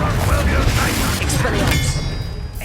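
Confringo fire spell in Hogwarts Legacy, a fiery blast over loud, busy combat noise, with a rumbling low impact and crackling burst mixed with game voices.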